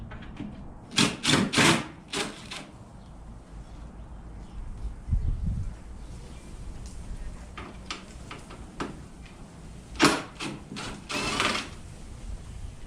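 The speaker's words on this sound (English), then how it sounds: "I'm just going to use my little impact, make it easy" Small impact driver backing out garnish molding screws on a 1956 Chevy sedan door: short bursts of rapid mechanical hammering, a cluster early on and another later, separated by quieter handling, close and fairly loud.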